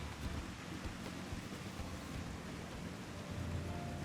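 Steady rain pours in Final Fantasy XIV, a constant soft hiss with scattered low rumbles, faint and unbroken throughout, with no voices.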